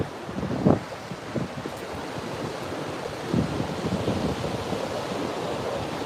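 Waves wash onto a beach, a soft continuous surf rumble with a few louder breaking swells and gusty wind buffeting the microphone, with no voices.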